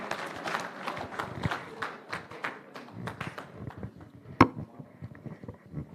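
Scattered audience applause at a public lecture of a pharmaceutical society's Board of Fellows, uneven claps and shuffling footsteps with one sharp loud clap near the end, moderately close in a hall.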